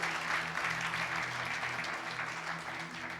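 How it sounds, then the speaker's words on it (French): A charismatic church congregation claps loudly and continuously, a dense, even roar of applause filling the room without a break for a few seconds. "Vous m'aimez, applaudissez-moi bien."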